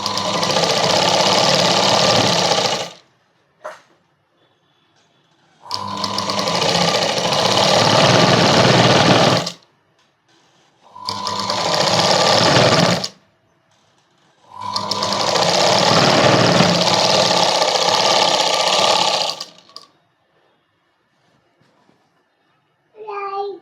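A sewing machine stitches a joint on a straight-cut strip for a kids' night dress, running in four loud, steady bursts of rapid needle chatter separated by short silent pauses.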